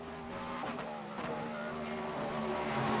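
A prototype race car in the iRacing sim game revs hard and holds near the rev limiter, its engine a dense, buzzing, slightly stuttering drone that swells toward the end.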